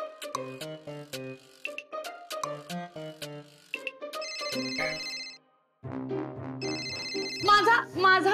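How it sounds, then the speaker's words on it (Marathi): A mobile phone ringtone plays a bright melodic tune in repeated bursts, pausing briefly before ringing again louder, with no talking over it. "अगं मग रिंगटोन तरी बदल"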